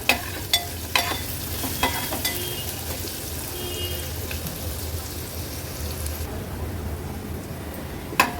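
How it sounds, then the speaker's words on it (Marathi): Onion and garlic sizzle steadily in a hot pan over medium flame, with a few sharp spatula clanks at the start and near the end. No one speaks. "लसूण आणि कांदा व्यवस्थित मीडियम फ्लेमवर शिजवून घेणार आहोत"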